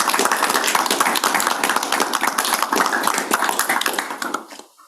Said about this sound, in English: give another round of applause for staff